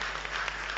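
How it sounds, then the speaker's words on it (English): An audience claps for itself in dense, continuous applause, a short full burst filling the room. "Clap for yourselves, and you are doing it this way."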